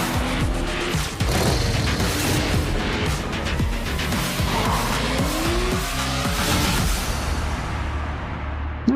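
Cars screech and skid through stunts in the driving game Stuntman, with continuous loud engine roar and repeated tire squeals layered over dense crashing action, no talk.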